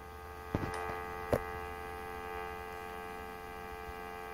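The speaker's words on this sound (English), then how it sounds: "can you hear the dial tone perfectly?" A steady, unbroken dial tone from an AT&T 210 corded Trimline telephone hums throughout, with a couple of faint clicks near the start.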